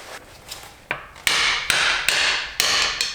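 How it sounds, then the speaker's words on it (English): A hammer strikes a front CV axle on a Mitsubishi Lancer Evolution IX several times in an uneven rhythm, a couple of light taps first, then four sharp, loud blows that ring briefly. No one speaks. "Hammer."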